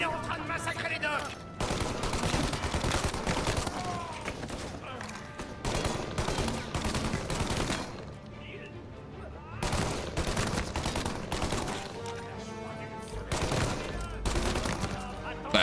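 Rapid bursts of video game gunfire crackle loudly in repeated volleys across a chaotic firefight on the docks, with short pauses between the barrages.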